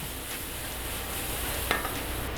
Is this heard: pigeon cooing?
no